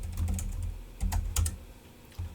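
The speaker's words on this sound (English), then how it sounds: "I'll just type ipconfig." Keys tapped on a computer keyboard while entering a network command at a desktop, a quick close flurry of clicks, a pause, then a few more keystrokes with no voices.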